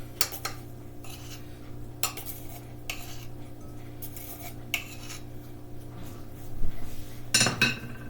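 Spoon measuring baking powder into a heavy bowl, with a few sharp metallic clinks and scrapes scattered irregularly over a quiet steady background hum, louder clatter near the end.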